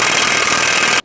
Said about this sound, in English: I'm going to bottom it out with my air gun